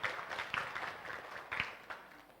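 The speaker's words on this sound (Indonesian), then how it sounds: "Tepuk tangan." Scattered applause from an audience at a university orientation for new students, fairly quiet and uneven with a few distinct louder claps standing out.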